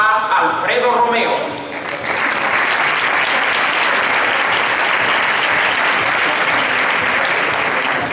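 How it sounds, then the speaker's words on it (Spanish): A conference crowd breaks into strong, sustained applause to welcome a speaker at a tech event. The clapping swells after a short spoken introduction at the start and stays full and even to the end. "Demos la bienvenida con un fuerte aplauso a Alfredo Romeo."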